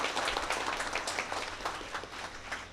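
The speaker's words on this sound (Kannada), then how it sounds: "ನಿಮ್ಮ ಸಂಸ್ಥೆಗೆ ಮತ್ತೊಮ್ಮೆ ಜೋರಾದ ಚಪ್ಪಾಳೆಯನ್ನು ಹೊಡಿಬೇಕು ಅಂತ ನಾವೆಲ್ಲರೂ ಕೇಳ್ಕೊಳ್ತೇವೆ." An audience applauds an institute at an event, a steady close wash of many hands clapping for about three seconds with no break.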